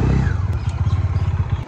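Bajaj Dominar 400cc motorcycle being ridden, a loud close engine note with rapid rhythmic pulsing throb that settles into a steady chugging beat.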